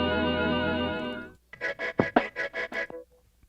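A pitched synth chord sustains for about a second, then cuts to a sample in a beat intro, heard as a string of short rhythmic chopped bursts that tail off near the end.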